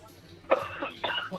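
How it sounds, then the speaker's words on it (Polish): A woman coughs over a phone line, two or three rough coughs at moderate level with a short pause between bursts, heard through a thin, compressed call connection without speech. "O, teraz kaszle."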